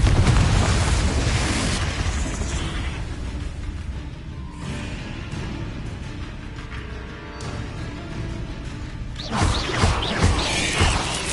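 Repeated Confringo fire spells blasting in Hogwarts Legacy, a string of loud, crashing explosions with rumbling low end, dipping briefly mid-stretch before another heavy burst near the end.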